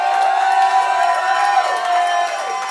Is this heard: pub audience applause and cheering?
yes